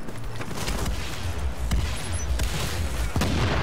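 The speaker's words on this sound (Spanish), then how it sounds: "¿Qué son esas explosiones?" Explosions and gunfire in The Division, set in New York City, form a dense continuous barrage with sharp booming hits rising above a loud rumbling wash.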